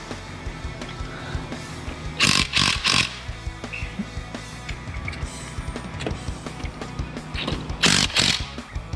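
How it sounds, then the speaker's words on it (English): Impact wrench tightening cross member bolts during an Allison transmission install on a 2500HD 4x4, two sharp clusters of rapid hammering bursts standing out over a low steady background hum in a garage. "we can go ahead and just tighten those up with the impact"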